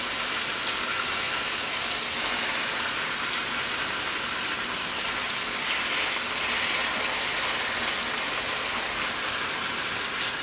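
Chicken legs brown in a little oil with salt in a pan, giving a steady, even crackling sizzle that holds at a moderate level throughout with no talking.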